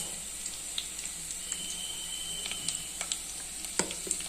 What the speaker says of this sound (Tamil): இது நல்லா இது பொரியட்டும்